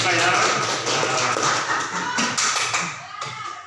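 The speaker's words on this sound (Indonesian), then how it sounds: "Beri tepuk tangan ya untuk saya." Classroom pupils clap together in a short burst of uneven, fairly close hand claps that taper off toward the end, with a faint voice mixed in.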